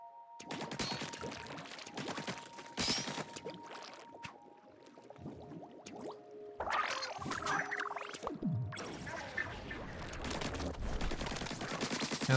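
Splat bombs bursting in Splatoon 3, a run of sharp, wet popping blasts with scattered splashy bursts over steady game music, fairly loud throughout with no talk.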